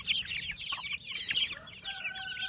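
Young chicks being raised on a farm peep and cheep in quick, overlapping high chirps, close by and fairly soft, with a few longer calls near the end.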